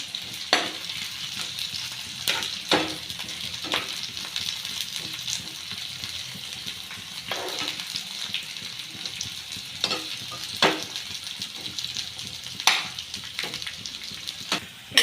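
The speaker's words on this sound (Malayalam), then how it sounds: "2 സവോള അരിഞ്ഞ് വെച്ചത് ഇതിലേക്ക് ഞാൻ ഇട്ട് കൊടുക്കും. അതൊന്ന് വഴന്ന് കിട്ടണവരേക്കും ഒന്ന് വെയിറ്റ് ചെയ്യണം." Sliced onions sauté in a pan for Kerala-style chicken curry, giving a continuous close sizzle broken by repeated sharp clicks and scrapes of a spoon stirring.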